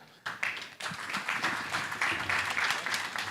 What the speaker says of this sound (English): Let's applaud our panelists again.